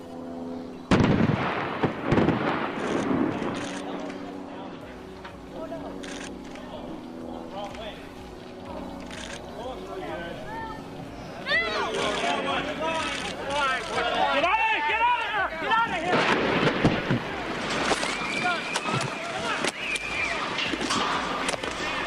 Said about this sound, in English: They said the explosives detonated correctly